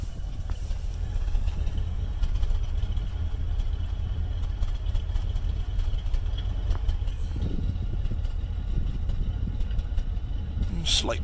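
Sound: old Cadillac engine idling, heard at the exhaust

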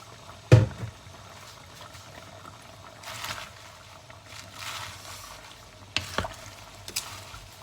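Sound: vegetables added to pot and stirred

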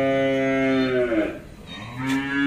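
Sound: cow mooing on a cattle farm

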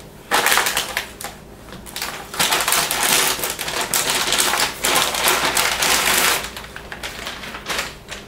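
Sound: handling and removing graphics card box packaging

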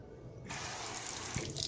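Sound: running water from a tap onto an Apple iPhone 7

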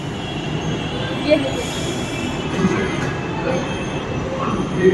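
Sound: train arriving at station

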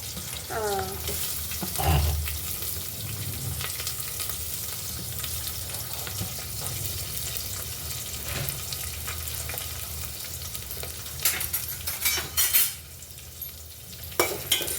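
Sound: onions frying in a pan

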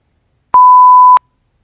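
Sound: censor bleep covering a swear word

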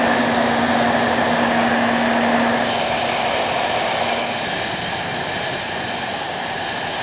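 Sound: heat gun applying heat to UltraCote covering

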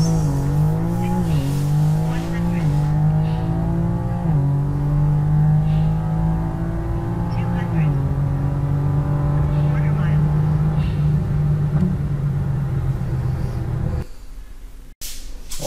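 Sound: BMW M3 Competition G80 car engine while driving

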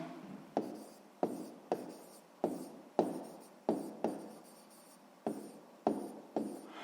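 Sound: writing down a math answer by hand

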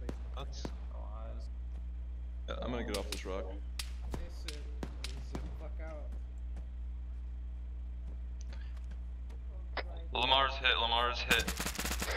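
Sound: gunfire in the video game ArmA III

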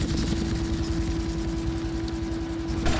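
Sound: helicopter in video game GTA Vice City

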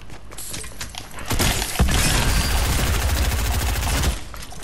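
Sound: pump shotgun gunfire in a video game

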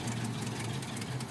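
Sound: truck engine running in the video game Mud Runner

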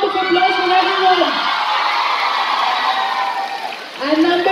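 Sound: audience applause

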